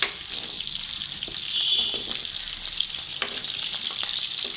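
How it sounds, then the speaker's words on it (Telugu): Chicken pieces fry in hot oil until golden brown, a steady close sizzle and crackle with a few faint pops and clinks, and no voices over it. "ఇవి బాగా చక్కగా గోల్డెన్ బ్రౌన్ కలర్ వచ్చేటట్టు చక్కగా ఫ్రై చేసుకోవాలండి"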